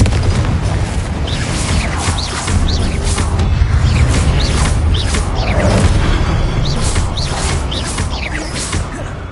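Confringo explosion spells in Hogwarts Legacy, a dense run of loud booming blasts with crackling bursts and repeated sharp whooshing impacts over a rumbling bed.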